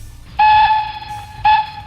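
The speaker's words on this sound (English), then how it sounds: "And if I want a steam whistle" A steam whistle sound effect sounds twice, a loud shrill chord-like blast lasting about half a second, then a shorter second toot after a brief gap.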